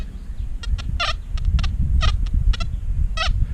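A metal detector sweeps slowly over a round object, giving a series of short warbling tones in irregular bursts over low background rumble.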